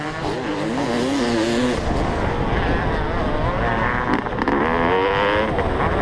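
A 32-year-old Honda CR500 dirt bike racing against modern dirt bikes on a hillside track: a loud, close engine roars continuously, its pitch climbing and dropping as the throttle rises and falls.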